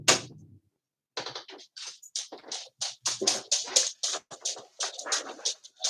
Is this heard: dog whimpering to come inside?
yes